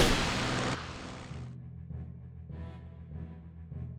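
A strafing run in the WWII strategy game Strategic Mind: Blitzkrieg, with loud dense broadband gunfire bursting for about a second and a half, then fading into rumbling low booms and scattered distant impacts.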